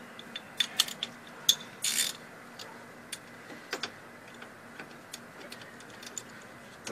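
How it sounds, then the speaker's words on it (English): A socket ratchet clicks while turning a strut bolt on a Toyota Corolla, giving irregular bursts of sharp pawl ticks, close and fairly quiet, with short pauses between strokes. "That can be fixed with another socket and a ratchet"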